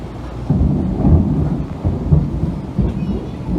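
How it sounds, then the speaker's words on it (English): Thunder rumbles low and heavy through a coastal storm at Orange Beach, Alabama, swelling in several rolling surges with a faint wash of rain behind it. "I hear that thunder and I'm going in."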